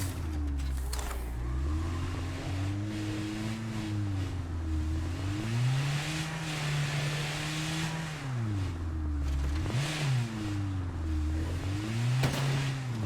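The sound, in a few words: car driving and revving in a video game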